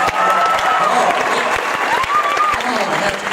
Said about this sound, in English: How about one round of applause for my friend Tim Hawkins right there?